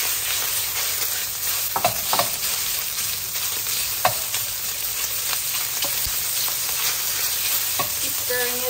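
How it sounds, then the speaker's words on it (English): Beef stir-frying in peanut oil in a hot wok, heard as a loud, continuous sizzle broken by frequent scraping and clacking strokes of a spatula as the meat is tossed, with no voices. "Keep stirring it so it gets hard and gets that wok haze all around."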